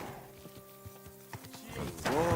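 A horse in Kingdom Come: Deliverance II, with soft, regular hoof clops and a low tonal hum, then a louder snort or whinny-like rasp rising at the end, fairly quiet overall.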